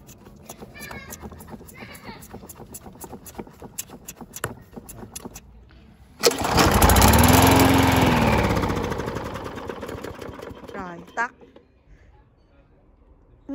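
A fairly new lawn mower, damp after rain, fails to stay running. Scattered clicks come first, then the engine bursts into a loud, close roar. It holds for about four seconds and dies away, ending with a few sputters.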